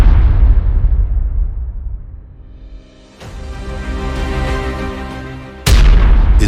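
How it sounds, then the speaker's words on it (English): Loud explosions from a strike destroying Leopard and Bradley tanks, a heavy boom rolling into a long fading rumble, then a second crackling blast and another sudden booming impact, no voices. "Footage shows a series of explosions, destroying at least 27 Western-made Leopard and Bradley tanks in less than 6 hours."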